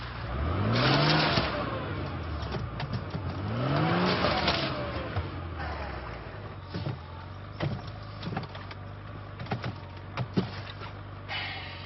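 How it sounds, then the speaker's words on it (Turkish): A car stuck in mud revs its engine in two rising surges, each climbing in pitch then falling away, followed by scattered knocks, thumps and mechanical clatter. "Araba çamura saplandı"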